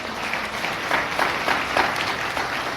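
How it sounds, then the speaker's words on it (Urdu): A congregation at a Sunday church service applauds together, a dense, steady wash of clapping with rhythmic surges throughout. "اس کے لیے زوردار تالیاں بجائیے"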